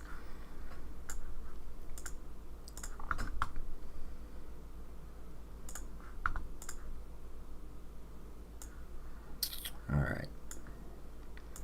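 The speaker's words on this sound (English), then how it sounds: "I bet the clicking is going to be really loud because the mic's right next to the mouse" Computer mouse clicks picked up by a microphone placed right beside the mouse, sharp scattered clicks at irregular intervals over a low background hum, with a brief spoken word near the end.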